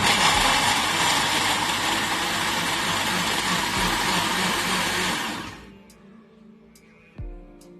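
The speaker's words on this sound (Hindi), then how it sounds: "मैं इन सारी चीज़ों को ग्राइंडर में डाल के पीस" Electric kitchen grinder whirring loudly and steadily as it grinds onion, garlic and ginger into a paste, then cutting off, followed by a few faint clicks and a brief knock.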